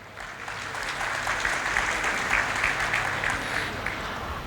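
An audience applauds a speaker in Nanded with dense, sustained clapping that fills the whole stretch at a steady, fairly loud level and swells slightly midway.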